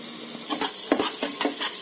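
Masala for a jackfruit curry roasting in a pan, soft sizzle under repeated spatula scrapes in an uneven rhythm, close and clear, no speech.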